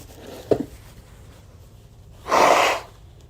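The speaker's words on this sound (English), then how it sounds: "Hold on, I gotta blow my nose." A person blows their nose with one sharp sniff or snort, then a pause, then a single loud, wet honking blow lasting about half a second, close up.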